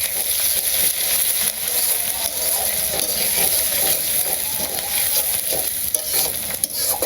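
Food fries loudly in hot oil while being stirred, a dense continuous sizzle with rapid scraping and clattering of the spoon against the pan, close up and without talk.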